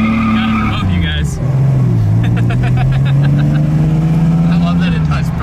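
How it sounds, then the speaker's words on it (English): A Nissan Skyline launches hard with its engine roaring loud and steady and its tires burning, the engine note climbing through most of the run while people talk over it. "this thing just smokes the tires off the line"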